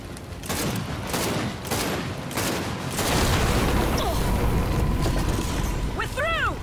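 Rapid gunfire and booming bursts from the video game Gears 5 during a bomb-drop sequence, loud and continuous with explosive thuds, mechanical whirs and a rising whine near the end.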